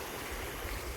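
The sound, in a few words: water flowing from the field into a drain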